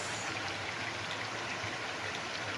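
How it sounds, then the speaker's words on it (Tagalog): Heavy rain at night pours down in a dense, even hiss that stays constant and fairly soft throughout, with no voices. "napakalakas ng ulan"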